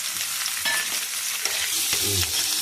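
Drumstick pieces frying in hot oil in a pan with green chillies and ginger-garlic paste give a constant, close, bright sizzle, with a few stirring scrapes and no speech.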